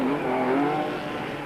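A 4-cylinder Ford-powered Ford Courier race car speeds downhill at a circuit, its engine a steady, continuous roar with a slight droning pitch change, loud and close throughout with no talk over it.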